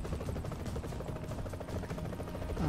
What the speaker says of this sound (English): Instead of spinning helicopter.